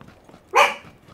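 A dog gives a single sharp bark, loud and close, during a PlayerUnknown's Battlegrounds match, with only faint background noise around it.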